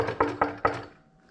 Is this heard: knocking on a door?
yes